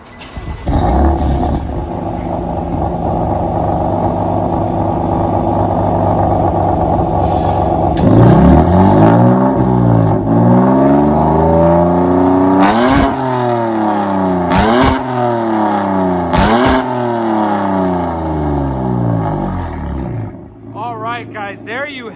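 A 2016 BMW M4 twin-turbo 3.0L with a Black Widow Angry House Wife 2-in-2-out muffler idles with a deep rumble, then revs repeatedly in loud rising and falling roars with sharp blips, close up.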